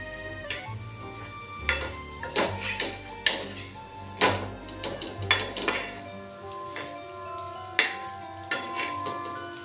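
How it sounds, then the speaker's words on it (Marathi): Surmai fish fries in oil over a low gas flame, a soft continuous sizzle broken by sharp clinks and taps of a utensil against the pan at irregular intervals, fairly quiet and close. "स्लो गॅसवरच आपण मच्छी तळतोय"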